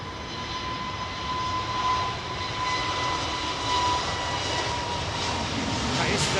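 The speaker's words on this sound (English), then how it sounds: "KLM touching down." A KLM airliner touches down at London Heathrow, its engines giving a steady, loud broadband roar with a faint whine throughout, and the roar swells slightly toward the end.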